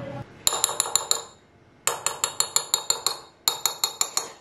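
A spoon briskly mixes olive oil into a salad dressing in a bowl for a chicken salad Niçoise, making three close bursts of rapid, bright metallic clinks separated by short pauses.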